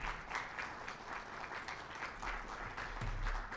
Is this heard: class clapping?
yes